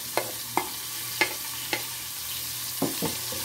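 Onion drops into melted butter or margarine in a pan and sizzles softly, with a few sharp spoon scrapes and taps spaced through a faint, steady frying hiss.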